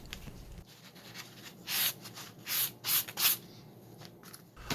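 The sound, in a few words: cleaning up cut brass parts for model crane boom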